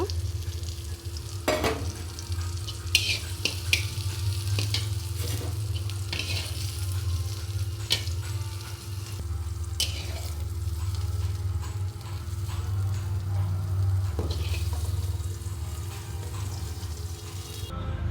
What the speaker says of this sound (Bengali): বেগুন পটলটা হালকা করে ভাজা হয়ে গেছে